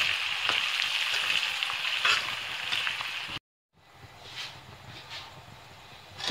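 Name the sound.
onions frying for Balochi chicken karahi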